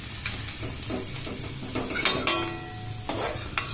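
Garlic and onion frying in oil in a pan, stirred with a utensil that scrapes and clinks against the metal, while a faint sizzle runs underneath over a few seconds.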